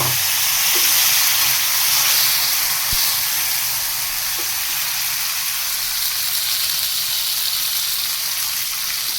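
Green beans dropped into a hot pan with black cumin seeds tempering in oil, giving a loud, steady sizzling hiss with a few faint clinks of the utensil, close up and without talk.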